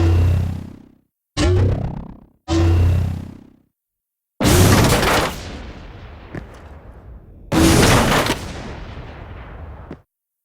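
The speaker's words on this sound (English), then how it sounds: "I built the rocket launcher sound in the same way, adding a synth layer to give a futuristic feeling to the sound." Rocket launcher effect for a game built with a futuristic synth layer: three short punchy bursts, then two long booming blasts that trail off into decaying rumble, loud and isolated with silence between.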